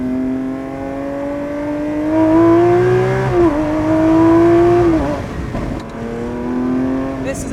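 A Lamborghini Aventador SVJ engine screams on a race track, its pitch rising through the revs, dropping at a gear change and climbing again, loud and steady from inside the car.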